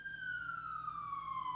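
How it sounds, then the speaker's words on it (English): A single siren wails steadily with a slowly falling pitch, distant and continuous, with no talking. "are you guys hearing that? The sirens."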